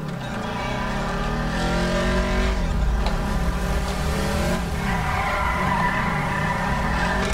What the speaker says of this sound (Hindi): देख रहे कैसे मोड़ देता हूँ मैं गाड़ी